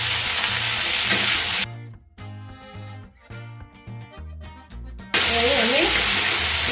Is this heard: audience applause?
no